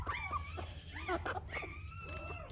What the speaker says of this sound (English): Do y'all hear little puppies?